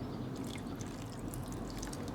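Coolant leaks from a car and drips steadily, a quiet, continuous patter of liquid heard close up with no voices.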